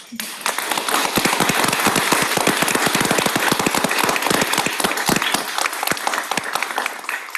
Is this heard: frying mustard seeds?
no